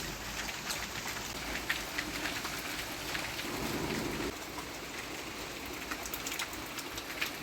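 Steady rain pours down on a stormy night, a dense hiss of drops pattering on a surface, continuous and fairly close with no voices.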